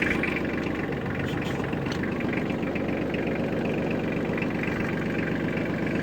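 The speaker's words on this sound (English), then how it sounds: "Okay, tractor's on." A Weed Badger 2550-SST tractor engine idles steadily at close range, a continuous low rumble with a faint mechanical knock throughout and no talk.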